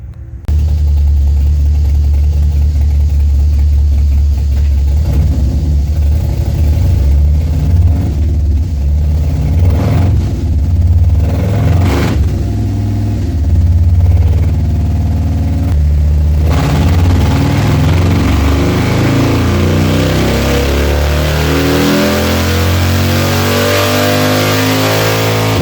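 Street-tuned car engine revving hard on a dyno power run, a loud sustained roar that climbs steadily in pitch through the pull, with rising harmonics toward the end.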